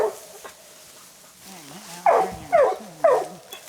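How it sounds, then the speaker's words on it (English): A dog whines softly, then lets out three loud, yelping barks about half a second apart, close by. "I'll have to leash the dogs on."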